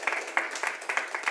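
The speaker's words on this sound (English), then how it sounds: "Round of applause for Cardiff." Steady applause from a small audience at a UK Barista Championship regional heat in Cardiff, with dense, close clapping throughout.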